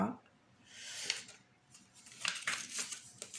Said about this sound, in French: on vous explique comment faire avec un ciseau